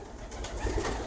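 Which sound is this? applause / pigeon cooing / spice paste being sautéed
pigeon cooing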